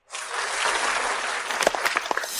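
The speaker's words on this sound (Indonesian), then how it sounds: "Mari kita sambut dengan tepuk tangan meriah." Audience applause for two finalists in a piano competition starts abruptly and holds as a dense, even roar of many hands, with a few louder individual claps near the end.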